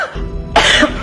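A single short cough, close and clear, preceded by a brief throat sound, with no talking.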